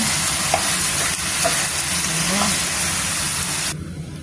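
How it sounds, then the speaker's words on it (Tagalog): Chicken adobo, Bisaya style, is stirred in a pan, giving a loud, dense, continuous sizzle with scraping spoon strokes. The hiss cuts off sharply near the end. "haluin na natin, mga dear, ang ating adobo"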